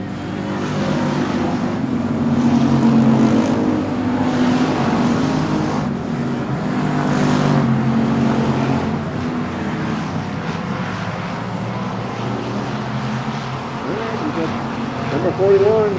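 Race cars at Texana Raceway Park roaring continuously around the track in a thick, droning engine wash, with a commentator talking over the noise throughout.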